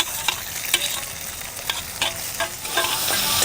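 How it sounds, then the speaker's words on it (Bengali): Chopped green chilli and onion fry with ginger and garlic in a pan, loud close sizzling with repeated stirring scrapes and spatula taps, and nobody speaking. "তারপরে কাঁচা লঙ্কা আর পেঁয়াজটাও এর সাথে খুব ভালো করে ভেজে নেব"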